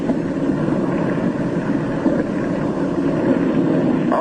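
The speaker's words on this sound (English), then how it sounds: "His starboard engine is cutting out, now stops. His one remaining engine is losing power." A twin-engine plane in flight, one engine already stopped and the remaining engine losing power, heard as a steady, loud droning roar with wind rush that holds constant throughout.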